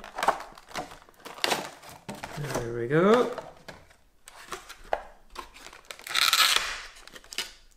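Plastic packaging of a Heljan Class 07 shunter model locomotive crinkles and tears close by in a few short bursts, with someone talking over it and a sliding pitch sweep in the middle.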